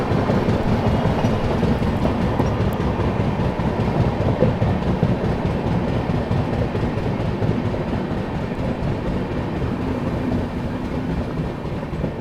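The Garib Rath Express from New Delhi to Ranchi passes close by as a continuous loud rumble with rapid clickety-clack of wheels over rail joints, steady throughout with no voices.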